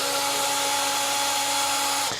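A power drill whirs steadily at close range, backing bolts out of the neck of a vintage Squier by Fender Stratocaster, a constant high motor whine that cuts off abruptly near the end.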